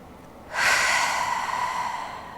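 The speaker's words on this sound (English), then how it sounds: "Let's take a big cycle of breath together." After a short pause, one deep breath comes in a big cycle during gentle yoga, a long, close, airy exhale that slowly fades.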